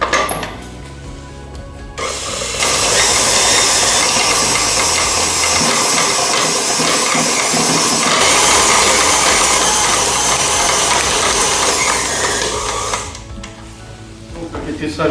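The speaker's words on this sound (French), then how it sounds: "Donc elle va commencer à pétrir sa pâte." Bread dough kneaded by machine in a training bakery, a steady broadband churning and rubbing that holds loud and even for about ten seconds, framed by quieter room sound and a brief high squeak at the start.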